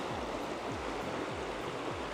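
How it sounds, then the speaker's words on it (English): A larger river in Alaska in spring rushes steadily, a broad continuous wash of flowing water heard close and alone, with no voices. "Coming down lower to a bigger river, you see there's a lot more water."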